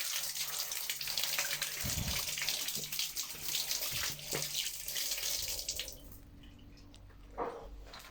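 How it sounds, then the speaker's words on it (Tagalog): Tap water runs and splashes steadily while ferns are washed in a sink, a close gushing stream that drops to lighter trickles and drips near the end. "Hugasan na natin yung pako."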